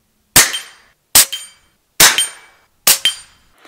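An FX Panthera .25 calibre FAC air rifle fires four loud, sharp cracks, each with a short ringing tail, spaced under a second apart in a quiet setting.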